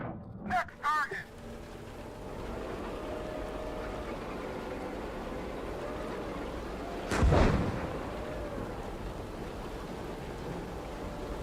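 A tank main gun fires in the PC tank game Gunner HEAT, one sharp loud blast with a short rumbling tail after a few seconds of low steady engine hum and ambience.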